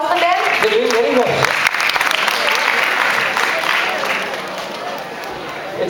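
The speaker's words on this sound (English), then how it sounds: "Please can we have a big round of applause for them?" An audience at a quiz competition applauds loudly and steadily, with the clapping fading slightly toward the end.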